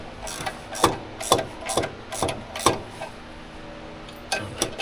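A hand ratchet clicks in short bursts as fasteners on the clutch cover of an Eaton Endurant 12-speed truck transmission are run down, each burst a rapid close-up ratcheting rattle, repeated about eight times.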